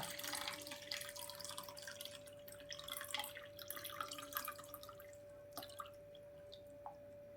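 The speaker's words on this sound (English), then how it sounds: "Now we will pour this water to glass Y. Only water without disturbing the soil." Water poured from one glass into another during a home sedimentation and decantation experiment, leaving the soil behind; a soft trickling, dripping stream runs steadily, close and fairly quiet, over a faint constant tone, with no talking.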